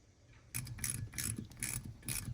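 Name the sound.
ratchet installing bleeder screw on Corvette brake caliper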